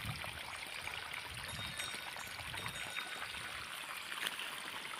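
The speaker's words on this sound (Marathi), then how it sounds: "पाणी केलं सुरू, आता बघू काय होतं हळूहळू" Irrigation water flows into a wheat field outdoors, a faint, continuous trickling and pouring rush with no talk.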